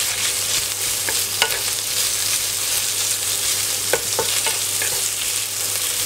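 Minced pork is pressed and stir-fried in a pan for a glass noodle holy basil dish, giving a steady sizzle with several distinct clicks and scrapes as the meat is mashed, close and without talk.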